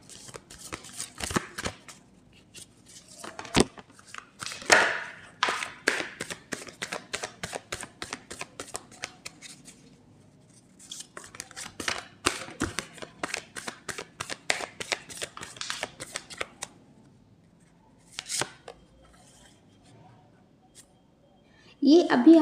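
Tarot cards being shuffled and drawn: bursts of crisp, riffling card noise come close by in several rapid runs, with pauses between them and a few sharper slaps as cards are laid down.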